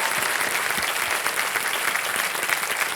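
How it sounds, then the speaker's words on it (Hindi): A studio audience on the quiz show Kaun Banega Crorepati claps in dense, continuous applause, loud and even throughout with no pauses. "एक बार फिर तालियां बज जाएं इनके लिए।"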